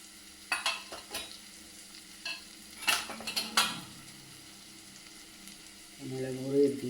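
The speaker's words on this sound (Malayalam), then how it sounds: "ഇനി മല്ലിപ്പൊടി ഒന്ന് ചൂടാക്കാം" Ground coriander toasting and being stirred in a pan for an egg curry: scattered scraping clicks of a spoon against the pan, then a soft sizzle swelling near the end.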